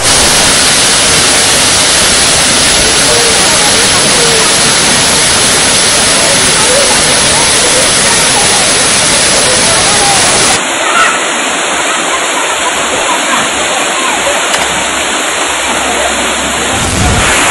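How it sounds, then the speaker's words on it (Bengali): Waterfall beside a Shiva temple in Keonjhar, a loud, dense, unbroken rush of falling water close by, turning thinner and hissier partway through. "এই হচ্ছে ঝর্ণা, এখানে কিন্তু স্নান করা যায়"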